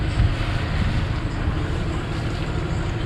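A steady low sailboat engine rumble at low revs churns beneath gusty wind and water noise, continuous and fairly loud throughout with no voices.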